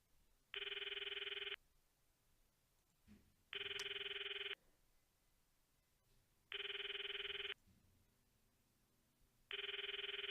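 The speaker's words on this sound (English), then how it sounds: "Stop the video and call Mari's phone from my address book." A telephone rings in the Steins;Gate video game, four evenly spaced bursts of a bright electronic ring, each about a second long with pauses between, heard clearly over quiet background.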